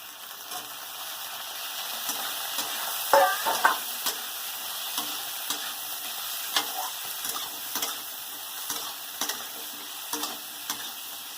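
Eggplant pieces with onion and a few poppy seeds frying and being stirred in a pan, a steady hiss broken by repeated scraping and clinking stirs, with a louder clatter near the start, no voices.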